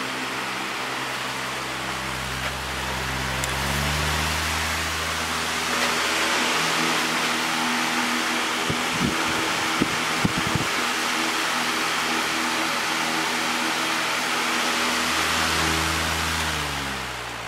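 A Lakewood HV-18 electric fan running and blowing air, a steady broadband whoosh with a low motor hum and slight vibration, a few soft clicks midway.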